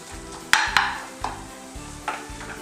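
Chicken frying in a pan for a Chinese-style bread pakora snack, with a steady sizzle and a few sharp scrapes and clinks of a spoon stirring against the pan, close and alone.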